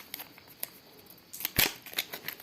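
Scissors cutting through a paper surprise packet: close, crisp snipping and rustling of paper, with one louder sharp cut near the middle followed by a few lighter snips.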